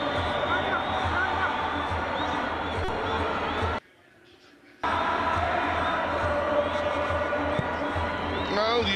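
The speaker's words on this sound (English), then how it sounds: "you expected a vibrant crowd out in the Free State. That's exactly what you'll get" Dense roar of a football stadium crowd at a Kaizer Chiefs versus Marumo Gallants cup match in the Free State, a steady loud wash of babble and cheering that drops out for a moment before surging back.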